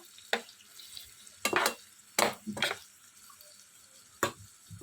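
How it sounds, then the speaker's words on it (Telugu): Onions frying with curry leaves in a pan for a simple curry, heard as several short bursts of sizzle and stirring scrapes spaced apart, close and moderately loud against a quiet background. "ఇప్పుడు ఈ ఆనియన్స్ ఒక 5 నిమిషాల పాటు వేగనిద్దాం"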